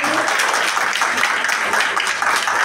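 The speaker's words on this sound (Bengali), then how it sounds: "একটা জোরে হাততালি" Crowd applause at a jewellery brand launch event honouring a 65-year-old jeweller family, a dense steady clapping from many hands close by, sustained throughout.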